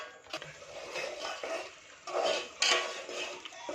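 Spices are stirred in hot oil in a pan for a spicy chicken curry, with repeated scraping and clattering of a spoon against metal and a low frying hiss, growing louder in two stronger strokes near the end.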